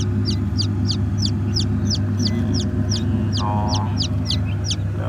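Laying hens and fighting-cock crossbreeds clucking steadily in a busy coop, repeated sharp calls over a constant low hum of farm noise, close and fairly loud.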